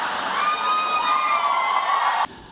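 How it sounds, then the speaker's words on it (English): An audience breaks into cheering and whoops, a bright, dense crowd roar that carries steadily for about two seconds before cutting off abruptly, with no talking over it. "Never gotten quite such an applause before."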